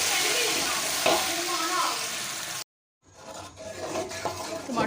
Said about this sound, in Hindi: इसको हम अच्छे से फ्राई करते हैं।